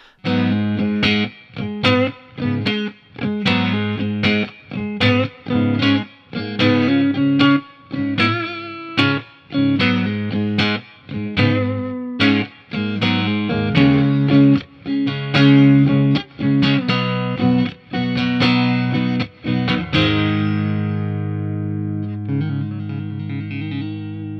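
Electric guitar, a 2021 PRS Silver Sky Lunar Ice John Mayer Signature, plays a driving, rhythmic run of strummed chords with a thick, effected tone, then the last chord rings out and fades.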